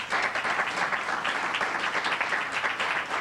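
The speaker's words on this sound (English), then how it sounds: "Ladies and gentlemen, just give a little round of applause." An audience applauds steadily to welcome a guest to the stage, dense clapping filling the room at an even level from start to finish with no talking over it.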